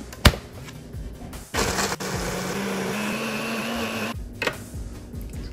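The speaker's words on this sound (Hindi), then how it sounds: "इन सारी चीज़ों को डाल के मैं ब्लेंड कर लूँगी।" A blender runs on frozen fruit and ice for a summer piña colada slush, whirring loud and steady for about two and a half seconds. Short clicks and knocks come before and after it, and no one speaks.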